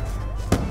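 A grenade explodes in a first-person shooter game, one short, sharp blast that stands out over a steady background hum.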